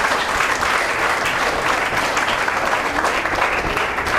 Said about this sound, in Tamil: அதற்காகவே உங்களுக்கு மறுபடியும் ஒரு கைத்தட்டல் நான் கொடுக்கணும்னு நினைக்கிறேன் உங்களுடைய கரவொலியோடு.